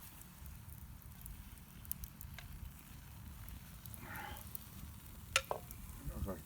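Onions being stirred into a pot of cooking soup give a low, steady simmering bubble with faint sizzle and a few light scraping clicks close by.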